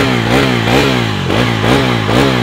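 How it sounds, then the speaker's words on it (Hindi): A Bajaj motorcycle exhaust revs repeatedly, rising and falling in several loud, close throttle blips over a rumbling engine. "एग्जॉस्ट नोट टोटल देता हूँ।"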